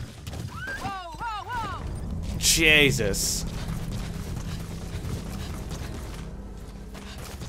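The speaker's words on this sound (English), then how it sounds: "Why am I on a horse?" Horse hooves clip-clop in Metal Gear Solid V: The Phantom Pain, a steady galloping patter under game sounds and mechanical creaks while someone talks and exclaims over it.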